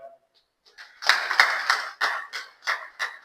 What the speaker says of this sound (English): I will really appreciate if you give them a round of applause.